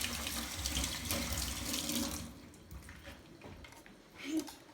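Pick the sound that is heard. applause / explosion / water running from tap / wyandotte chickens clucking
water running from tap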